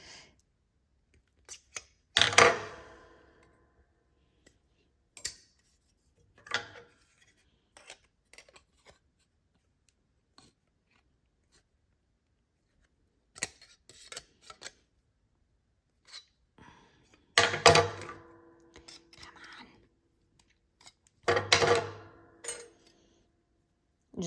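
Heavy scissors chop through thick fabric for a cramp seam, several separate bursts of crunching snips with quiet pauses between, close and fairly loud, no talking.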